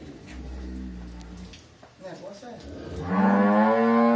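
Cows in a farm corral during hand milking, with deep drawn-out moos, one low and muffled early on and a loud, close, rising bellow at the end, while people talk in Portuguese in between.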